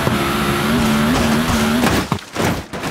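Mercedes G-Class driving down a flight of stairs in BeamNG.Drive, a loud, steady engine drone that gives way to thumping jolts and rattling impacts as it bounces down the steps.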